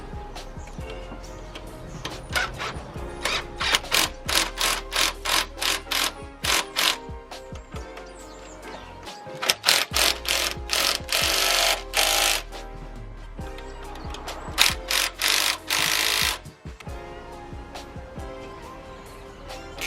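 Ratchet or wrench clicking in quick runs as bolts are tightened down on a fuel rail adapter for an adjustable fuel pressure regulator on a Volvo 340; close, loud rapid ticking bursts separated by short pauses and shuffling handling noises.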